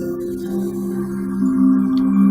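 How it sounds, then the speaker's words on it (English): A couple of vases bowed like instruments in a living room for a Fallout soundtrack composition, giving sustained droning tones that swell slightly louder toward the end, with no talking. "What you hear right now is a couple of vases being bowed"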